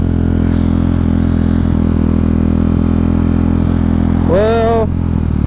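A KTM Duke 390 motorcycle engine drones steadily and loudly on a highway, with a short tonal whine near the end, recorded close on the bike.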